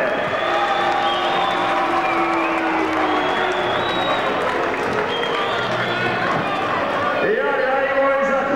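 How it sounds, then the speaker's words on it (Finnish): A boxing crowd applauds and cheers continuously as boxer Toni Halme leaves the ring after a first-round knockout, with an announcer's voice running over the steady, roaring noise. "Ja iloisat taputukset Toni Halmeen, joka poistuu kiestä."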